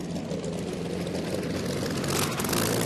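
The rebuilt engine of Malcolm Campbell's record-breaking Blue Bird car runs with a loud, continuous, heavy roar that stays close and steady, swelling slightly toward the end with no talking over it.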